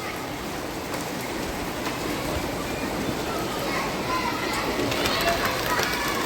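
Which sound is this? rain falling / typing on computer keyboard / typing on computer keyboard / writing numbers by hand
rain falling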